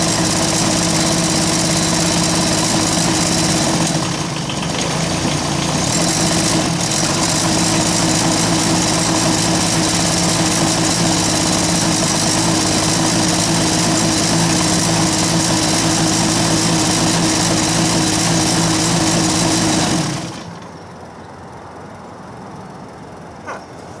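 An engine runs steadily at high, constant revs as if at full throttle, a loud continuous drone with a strong hum that holds for about twenty seconds before abruptly cutting off to near silence.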